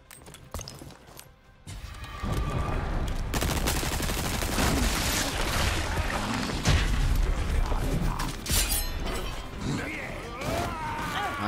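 Dense bursts of gunfire in Resident Evil: Separate Ways, loud repeated shots after a brief quieter opening, with someone talking over the combat.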